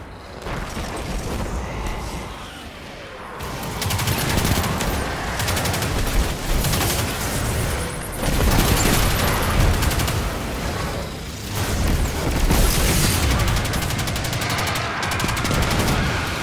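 Sustained firefight gunfire in the Destiny 2 Gambit mode: dense, loud overlapping bursts of automatic fire and booming impacts that continue almost without pause, easing off briefly at the start and then resuming.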